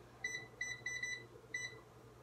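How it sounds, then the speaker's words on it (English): Microwave timer being set while cooking in a home kitchen: several short, high electronic beeps in brief bursts, some single and some doubled, fairly clear over a quiet background hum. "Does anybody else use the timer on their microwave when they cook?"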